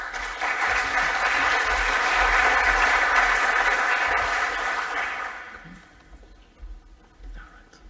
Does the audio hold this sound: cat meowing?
no